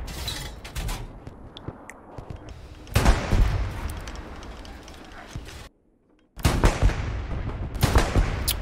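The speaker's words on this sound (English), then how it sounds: "Anti-tank gun right here." A towed anti-tank gun in the World War II shooter Hell Let Loose fires amid battlefield noise, with several loud booming shots and broadband blasts, a brief silent gap, then more heavy reports under ongoing combat ambience.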